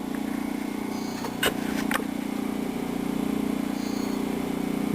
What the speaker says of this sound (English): This motor is insanely quiet, and it runs really, really smooth.